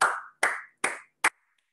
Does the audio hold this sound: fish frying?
no